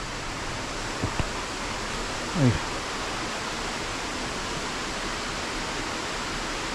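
Steady broadband roar of a waterfall near Stainforth fills the scene, constant and fairly loud, with a brief voice and a couple of small knocks and rustles partway through.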